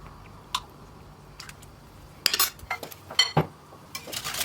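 Spinach batter with yogurt stirred in a bowl, scattered spoon clinks and scraping taps against the bowl, sparse at first and then busier, no voices.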